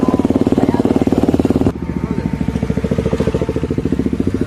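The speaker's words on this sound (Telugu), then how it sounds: "ఫ్రెండ్ గాడి బండి అయితే పట్టుకుని వచ్చాడు. దానితో రకరకాల విన్యాసాలు అయితే చేశాం." A friend's motorbike revs and putters up close while being ridden around for stunts. The engine fires in a fast, even pulsing rhythm that drops abruptly to a lower, steady chug midway through.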